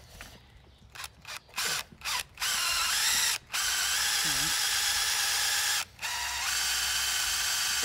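A power drill revs in several short bursts, then runs steadily with a strained, high whine as the drill bit bends, close up, briefly stopping once before resuming.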